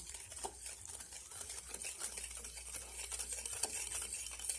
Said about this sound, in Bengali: এবার একটা হ্যান্ড উইস্ক নিয়েছি। এবার এর সাহায্যে আমি দুধের সঙ্গে চিনিটা খুব ভালো করে মিশিয়ে নেব।